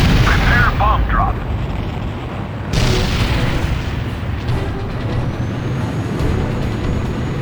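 Heavy bomb blasts in a flight combat video game, loud low booming rumbles that surge at the start and again near the middle, rolling on continuously as a dense, explosive roar with no talking.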